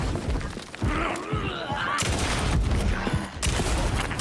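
Gunfire in Alan Wake 2: several loud, close shots in quick bursts against sparse enemies, with someone talking excitedly between the shots.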